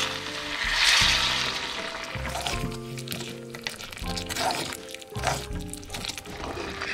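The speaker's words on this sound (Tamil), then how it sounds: "தண்ணி கொஞ்சம் சேர்க்கலாம்." Water is poured into a pan of sizzling dry fish curry with aubergine, a loud splash and hiss at first that settles into steady bubbling and frying, close up and without speech.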